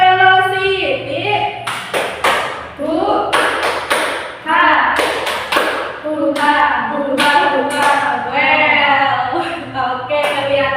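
Students in a classroom perform a rhythmic spirit clap, chanting together while sharp, clustered hand claps punctuate the chant in a patterned beat, loud and close.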